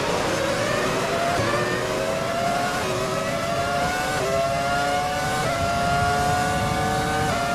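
Several F1 2020 race cars in the video game launch off the grid at the Monza start, engines revving hard with rising gear-change sweeps, loud and continuous, no talk.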